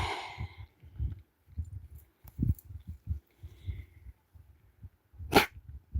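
A dog sneezes once, sharply and up close, near the end, after a stretch of quiet snuffling and sniffing.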